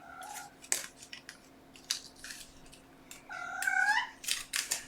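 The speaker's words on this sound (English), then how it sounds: "That's the cat." A cat gives a few short meows close by near the end, mixed with sharp snipping and clicking sounds of craft work in a quiet room.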